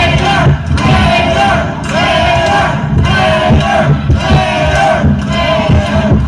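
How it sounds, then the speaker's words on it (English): A loud, dense crowd at a Kings of Pain MMA event in Oklahoma City's Bricktown roars steadily behind fighter Rader as he pushes for a finish, with swelling shouts and bellowing voices that stay continuous throughout. "Crowd getting behind Rader, wanting to finish"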